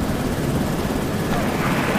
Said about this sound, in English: There's nowhere to put the helicopter down.